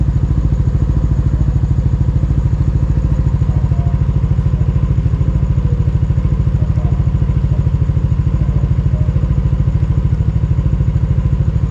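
A motorcycle engine idling close by, with a loud, steady, even throb that holds for the whole stretch, without speech.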